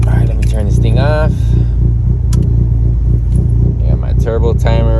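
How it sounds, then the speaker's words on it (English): Dodge Neon SRT-4 idling with a steady low rumble close by while someone talks over it; the engine keeps running through most of the stretch, with a brief click partway through. "All right, let me turn this thing off."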